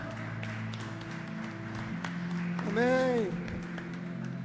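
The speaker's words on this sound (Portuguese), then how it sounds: "vamos oferecer nossa melhor salva de palmas para o Senhor Jesus nessa noite" Church congregation clapping in praise to Jesus during an evening service, with a steady patter of applause beneath a sung or spoken amen and a low hum.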